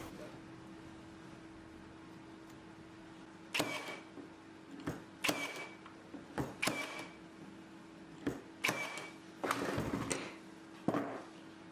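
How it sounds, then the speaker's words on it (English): A brad nailer fires nails into a small wooden chisel rack, a string of sharp percussive snaps spaced irregularly over a steady low hum, close and fairly loud, some shots coming in quick pairs. "then I can flip it over and get some brad nails in"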